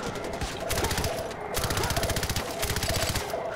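Rapid automatic gunfire from the video game Far Cry 4 rattles in dense bursts, loud and continuous with short gaps, game audio mixed under a voice speaking.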